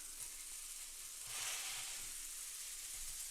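A burger patty sizzles steadily on a hot surface after being smashed flat with a butter-smeared spatula, the frying hiss swelling briefly partway through and then holding at a constant level.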